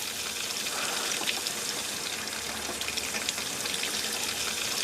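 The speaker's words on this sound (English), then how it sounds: "I always wondered why the faucet made these funny sounds when it runs" Water runs from a kitchen faucet, its well water carrying gas from fracking, giving a steady hissing, gushing flow with irregular sputtering crackles throughout.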